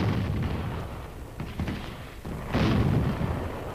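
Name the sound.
howitzer artillery firing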